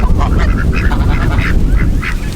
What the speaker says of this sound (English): one of those ducks right there in the back